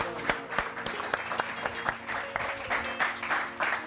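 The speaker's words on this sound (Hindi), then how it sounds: "बहुत सारी तालियां" A studio audience on a Pakistani morning TV show claps in a steady round of applause, moderately loud and sustained with a few sharper claps standing out.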